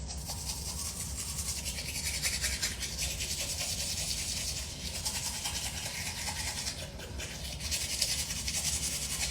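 A toothbrush dipped in whitening powder scrubs teeth with steady, close, raspy back-and-forth strokes that continue throughout, with no talking.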